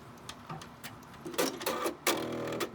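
A Brother Persona PRS100 embroidery machine stitches a keychain design with quick, rhythmic mechanical bursts of needle tapping, close and moderately loud.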